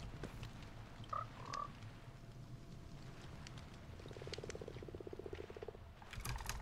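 Frogs at a pond in Minecraft croak in a low, rattling run midway through, set against a dense ambient bed with a few faint higher chirps. No one speaks.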